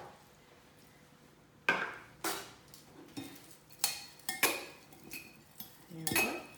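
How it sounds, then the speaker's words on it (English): Roasted cauliflower is tossed with black rice vinegar in a bowl, giving a series of irregular clinks and scrapes of utensils against the dish, close and fairly quiet with no talking. "I'm going to toss this with a black vinegar."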